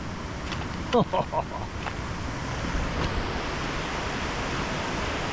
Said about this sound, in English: The river's never far.